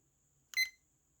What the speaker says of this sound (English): let's start the timer